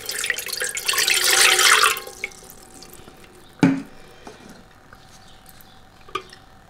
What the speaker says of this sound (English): Water first.